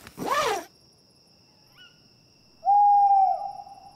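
A cartoon owl hoots once at night in a Peppa Pig campout scene, a clear, drawn-out hoot following a brief rustle and a faint squeak in an otherwise quiet setting.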